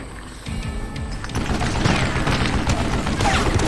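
Rapid bursts of gunfire in the game Call of Juarez: Gunslinger crackle and boom continuously, loud and dense, with a heavier rumble kicking in after the first half second.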